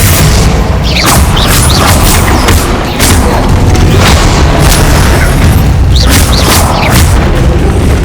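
Bombarda explosion spells in Hogwarts Legacy combat, very loud deep booms and blasts repeating over a dense rumbling battle din, with several strong bursts standing out.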